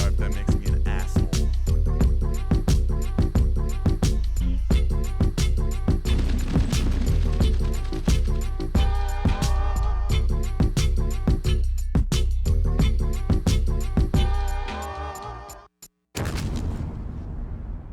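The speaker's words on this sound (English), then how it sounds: "Nice little explosion there to really end it off for us" A dense track pounds with steady percussive hits, then drops out near the end before a sudden explosion bursts and rumbles off in a fading tail.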